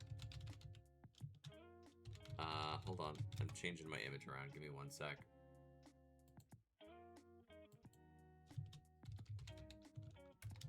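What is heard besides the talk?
typing on a computer keyboard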